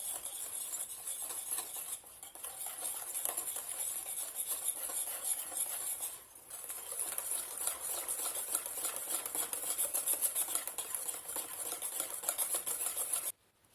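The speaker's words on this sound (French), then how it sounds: "on mélange la farine petit à petit en évitant de faire des" A spoon stirs flour gradually into yogurt cake batter in a bowl, producing a continuous soft scraping and light clinking against the bowl, steady and close with brief pauses.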